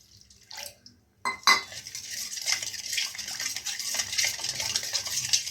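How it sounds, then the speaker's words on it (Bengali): A spoon whisks yogurt with salt and a splash of water in a bowl for dahi vada, giving quiet, continuous scraping clinks against the bowl after a brief pause and a sharp tap. "একদম ভালোভাবে আমাকে দইটাকে এইভাবে ফেটে নিতে হবে"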